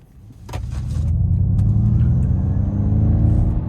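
A Ford Mustang Mach-E GT electric car plays its simulated propulsion sound while driving, a low rumbling hum swelling in after a soft start and holding steady and fairly loud.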